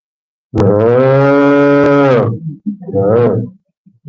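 Cattle low nearby, one long loud sustained moo followed by a shorter second call and a few faint grunts, with no speech.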